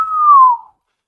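A voice imitates a whistle with one clean, steady tone lasting about half a second that drifts slightly lower before fading out.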